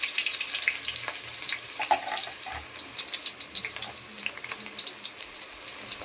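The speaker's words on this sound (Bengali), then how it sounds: "তেল গরম হয়ে গেছে। এবার বেরেস্তা বানানোর জন্য পেঁয়াজটা দিয়ে দেব।" Sliced onions for birista hiss and crackle in hot oil, a steady, fairly faint sizzle with small pops, heard alone without speech.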